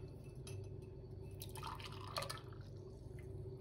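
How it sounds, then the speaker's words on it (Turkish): Homemade thyme tea is strained into a drinking glass, a soft trickle of liquid with a few light drips and faint glassy splashes, quiet and close. "Bardağımıza süzüyoruz arkadaşlar."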